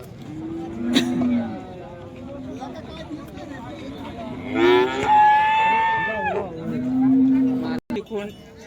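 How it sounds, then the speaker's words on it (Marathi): Native cattle low loudly several times at a busy cow market while a native bull is shown, long nearby moos over crowd chatter and people talking. "देशी खोंड एक आले बघा"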